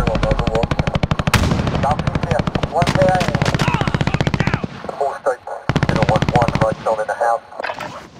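Loud, rapid automatic gunfire in an online multiplayer shooter video game, with dense sustained bursts that break off briefly and then resume, while in-game voices and player talk sound over it.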